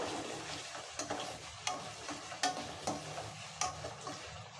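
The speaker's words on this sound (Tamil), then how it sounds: "இப்போ இதில் கொஞ்சமாக உப்பு சேர்த்து நல்லா வதக்கி விட்டுறலாம்" Onions sautéing with salt in a pan for a village-style chicken curry, a steady close sizzle broken by sharp scraping stirs of the spoon every second or so, with no talk.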